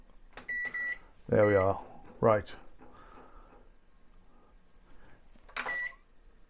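Kitchen timer buttons being set give a few short, sharp electronic beeps, a quick pair at first and a single one later, with brief speech between them in a quiet room.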